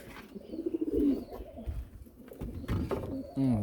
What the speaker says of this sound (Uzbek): qiynalyapti kaptar